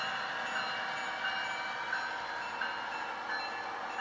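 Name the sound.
passenger train running on track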